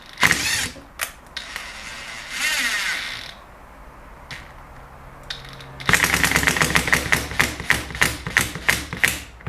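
A Kyocera cordless impact driver runs in short, broken bursts, then settles into a long stretch of fast, loud, rattling hammer impacts close by, with no talking.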